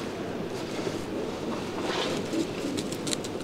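Andalusian pigeons coo softly at a large pigeon exhibition in Leipzig, the low murmuring calls blending into a steady hall hubbub with faint bird sounds scattered throughout.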